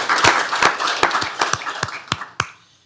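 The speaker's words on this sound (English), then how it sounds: "Round of applause for Chan." Applause at a county commissioners court session, a modest group clapping close by with distinct individual claps audible in the patter, gradually thinning and fading to silence after about two and a half seconds.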